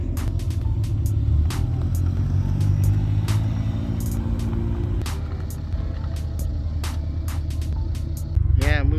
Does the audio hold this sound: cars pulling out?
yes